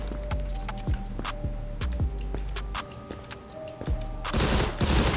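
FAMAS gunfire in the browser shooter Krunker, sharp repeated shots in a quick uneven rhythm, loud and close, giving way to a denser burst of noise near the end.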